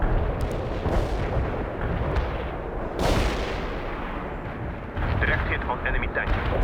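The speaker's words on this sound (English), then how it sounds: "Fire support mission received. Attacking the area." Artillery barrage in the World in Conflict video game, a dense rumbling roll of distant gunfire and blasts with a sharper burst near the middle, continuous and fairly loud throughout.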